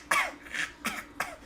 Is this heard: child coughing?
yes